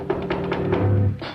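Several knocks on a wooden door in a 1954 Sherlock Holmes television episode, a quick series of dull taps, close and fairly loud, with no talking.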